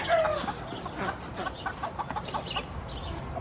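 Hens in a backyard bird coop cluck in a busy, overlapping chorus close by, with a brief higher squawk at the start and no one talking.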